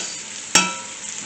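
Goat kaldereta cooking in a pot gives off a sudden loud sizzle that settles into a steady frying hiss for the remaining second, with no voices.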